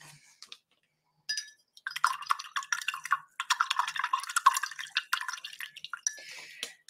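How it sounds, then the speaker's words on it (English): A paintbrush is rinsed in a small water container, giving rapid light swishing, dripping and clinking against the vessel. The bursts are close, with brief pauses between them. "Go ahead and rinse your brush."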